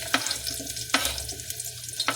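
Garlic and onion frying in a hot pan for batchoy, a steady close sizzle with a few sharp stirring scrapes cutting through.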